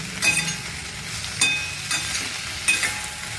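Okra (bhindi) fries in a pan for masala bhendi bhaji, with a soft steady sizzle and a few spaced spatula scrapes and clinks as it is stirred, and no voices.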